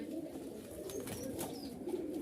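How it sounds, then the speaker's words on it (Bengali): Rajshahi Giribaz pigeons coo in a steady, overlapping murmur, several birds close by calling at once in low throaty rolls, with no talking. "এই যে আমার বেশ কিছু কবুতর ফুল মুডে আছে"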